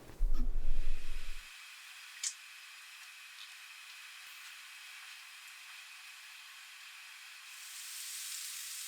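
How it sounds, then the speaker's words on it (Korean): Garlic and the white part of green onion frying in cooking oil in a pan make a soft, steady sizzle that runs on after a brief low thump at the start and swells slightly near the end. "팬에 식용유 2큰술을 두르고 파의 흰 부분과 간마늘 1큰술을 볶아요."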